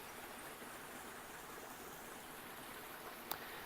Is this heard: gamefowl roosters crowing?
no